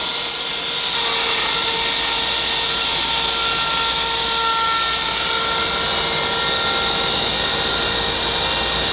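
A DIY CNC router with linear rails and lead screws cutting metal, a loud, constant high whine with steady tonal lines holds for the whole stretch, with no talk.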